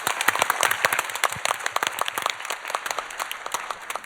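A church congregation claps for a while, many hands beating at a quick uneven pace. The applause sounds fairly close and moderately loud, then thins out a little toward the end. No one speaks over it.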